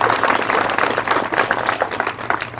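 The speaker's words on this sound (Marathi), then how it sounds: "जोरदार टाळ्या वाजल्या पाहिजे" An audience at a public lecture on Dr. Babasaheb Ambedkar claps together in a loud, dense burst that runs steadily for a couple of seconds, with no voices over it.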